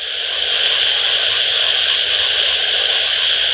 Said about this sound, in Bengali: আমার গলার থেকে এই মুহূর্তে ব্যাঙের ডাকটাই সব থেকে বেশি শোনা যাচ্ছে